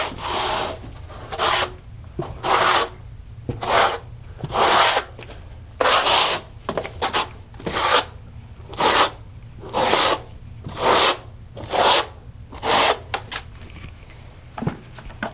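A trowel combs ridges into a fresh mortar bed for a foam shower pan, giving about a dozen loud close gritty scraping strokes in a steady back-and-forth rhythm with short pauses between them.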